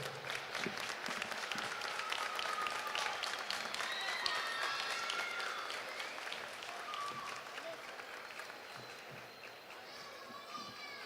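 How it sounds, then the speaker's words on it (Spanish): Loud, sustained audience applause at the second day of a folk dance festival after the dancers leave the stage, dense clapping from a big crowd with voices and children's chatter mixed in, easing off toward the end. "El aplauso bien fuerte."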